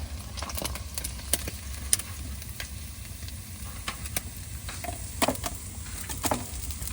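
Fish frying crisp in hot oil gives a continuous sizzle broken by sharp crackles and spatula scrapes, close and fairly quiet, with no talk.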